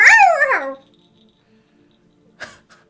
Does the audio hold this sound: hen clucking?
no